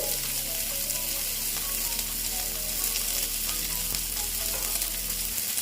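Chopped ginger, green chili and onion hit hot oil with cumin in a pan, producing a loud, continuous close-up sizzle with stirring noises over a faint low hum and no talking.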